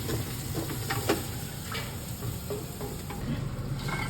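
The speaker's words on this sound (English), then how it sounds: "Sauteing the crabs." Cooked crabs sautéing in a pan for crab spaghetti give off a steady, close sizzle throughout, with occasional stirring clicks and scrapes.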